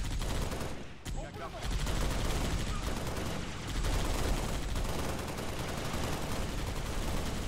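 Continuous heavy gunfire and explosions rumble through a Halo battle as a Pelican raid with UNSC Marines assaults a Covenant base, loud and dense throughout with a brief dip near the start.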